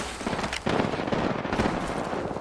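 Rapid automatic gunfire crackles in an online squad shooter game, a loud continuous burst of shots with a brief gap before firing resumes.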